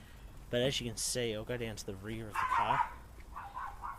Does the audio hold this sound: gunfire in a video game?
no